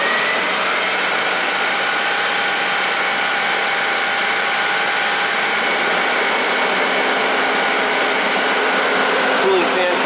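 A 1991 Audi 200 Quattro engine runs at slightly raised RPM with the A/C compressor engaged, a steady mechanical whir and hum with a faint whine; a voice may be faintly present.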